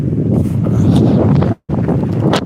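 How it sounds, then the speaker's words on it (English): Strong wind gusting outdoors on a morning after a storm, a loud close buffeting roar against the microphone with a brief drop-out in the middle, no talking. "that wind just picked up something nice, didn't it? You see it blowing everything around."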